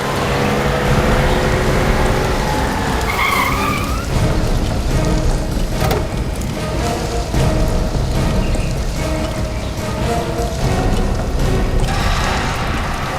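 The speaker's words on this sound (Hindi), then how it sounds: "कोई गाड़ी आई है।" Rain falls steadily at night while a car pulls up and brakes to a stop, its tyres hissing and scraping briefly on wet ground over the constant patter.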